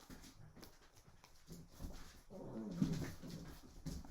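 Several dogs kept at home a couple of days before their vaccination whimper and yelp restlessly, with soft scuffling and panting, building to a louder burst near the end; moderately distant and fairly quiet.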